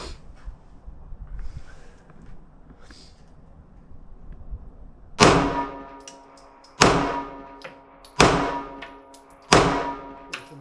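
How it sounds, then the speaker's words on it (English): Four sharp pistol shots ring out from a Ruger SR9c on a shooting range, each a loud crack with a short decaying tail, coming at about one and a half second intervals after a quiet lead-in with faint voices. "we're going to do 10 shots out of the SR9c at that top right hand challenge target"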